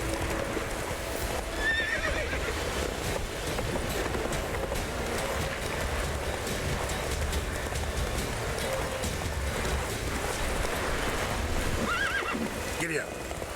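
A galloping horse in The Witcher 3 pounds along in a constant, dense stream of hoofbeats, with a neigh rising near the end and a voice briefly speaking over the steady rumble.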